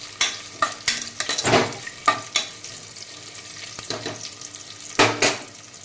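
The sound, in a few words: stirring whole spices frying in pan for palak paneer pulao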